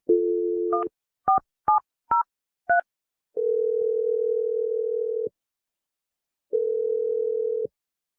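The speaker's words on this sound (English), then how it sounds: "I'm dialing her number right now." Telephone dialing a number: a steady dial tone, then a quick run of five DTMF beeps, followed by two long ringback tones separated by silence, clean and close.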